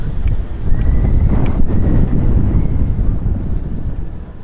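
Steady wind roars and buffets against the microphone in a continuous low rumble, with a few faint clicks in the background.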